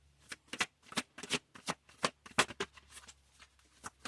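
Large affirmation cards are shuffled close up, a quick run of soft papery riffles and flicks in an irregular rhythm, faint and alone with no talking.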